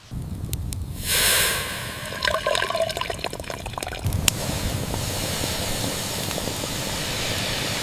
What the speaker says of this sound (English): Next we add the water to the hot pot.